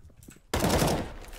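Loud burst of gunfire from the video game CS:GO erupts suddenly after a moment of quiet, a dense spray of shots that lingers and fades over about a second.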